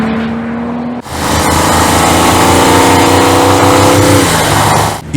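Audi RS5 2026 plug-in hybrid's 2.9-liter twin-turbo V6 bursts to life after a quiet hum and roars loudly with its exhaust flaps open, a sustained, close, heavy growl holding steady for several seconds before easing off.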